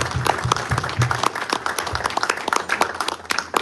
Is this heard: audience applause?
yes